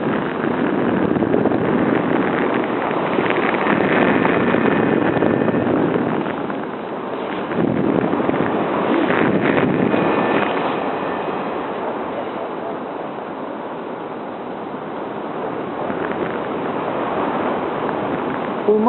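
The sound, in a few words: strong wind blowing on microphone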